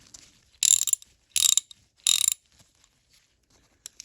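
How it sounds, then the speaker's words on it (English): Three quick bursts of ratcheting clicks from a vintage Dayton (Thorsen) 4X356 3/8-inch drive ratchet, each a dense metallic pawl chatter lasting about a third of a second, close and crisp with quiet gaps between. "It's ratcheting."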